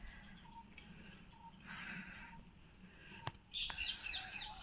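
Several kinds of birds call in quiet, hilly countryside in Purulia: faint scattered chirps and short whistled notes, with a sharper burst of rapid twitters near the end over soft background hush.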